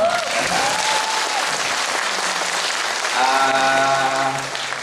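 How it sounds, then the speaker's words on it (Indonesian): An audience claps at a business seminar in Taipei, loud continuous applause filling the room, while a voice on a microphone briefly sounds over it partway through. "Aplaus buat Anda semua."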